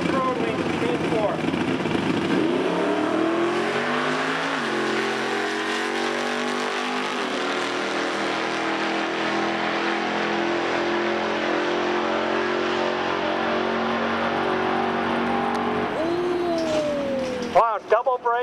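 Super Pro drag race cars launch side by side down lanes 3 and 4 at a grassroots drag strip, a loud sustained engine roar with rising and shifting revs, announcer speech running over it before it cuts off.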